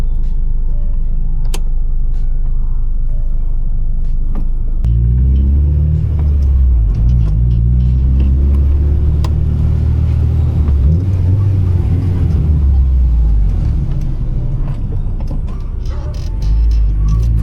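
A 2000 Honda Civic SiR on a rainy night drive in Quezon City holds a steady low rumble, then loudly revs through first gear into VTEC with a rising, sustained engine roar. No one speaks.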